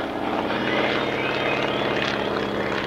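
A propeller airplane flying aerobatics at an air show, including a climb and hammerhead turnaround, its engine drone loud and steady throughout.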